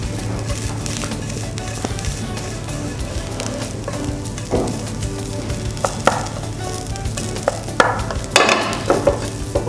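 Coconut masala with chili powder sautéing in a pan for an okra dish, a loud steady sizzle with repeated scraping stirs of a spatula throughout.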